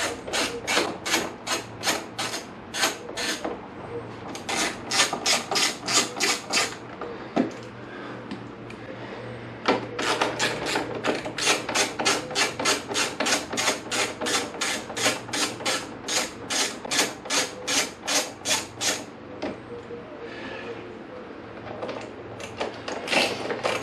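A ratchet wrench loosens bolts on a 1998 Kawasaki ZX9R motorcycle during bodywork removal, with repeated rapid clicking runs broken by short pauses, close and steady with no talking.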